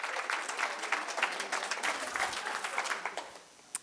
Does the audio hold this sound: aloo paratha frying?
no